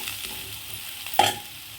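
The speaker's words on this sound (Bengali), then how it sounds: "কারি পাতাটার সঙ্গে ভালো করে মিশিয়ে নেব।" Curry leaves being stirred into cauliflower and potato frying in oil, a short burst of spoon scraping and fresh sizzle rising midway over a steady low background of frying.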